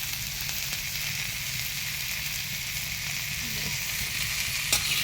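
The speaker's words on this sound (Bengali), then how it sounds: "পেঁয়াজটা ভাজা হয়ে গেছে, এবার খানিকটা টমেটো দিয়ে দেবো।" Chopped tomatoes go into a pan of already fried onions in a home kitchen, giving a steady, close hiss and sizzle that runs evenly throughout with no talking.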